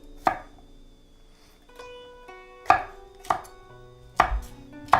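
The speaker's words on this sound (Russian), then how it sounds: "болгарский перец можно порезать полосочками" A knife cuts a bell pepper into strips on a cutting board, with about six sharp, separate chops at an uneven pace, close and clear, in an otherwise quiet kitchen with no speech.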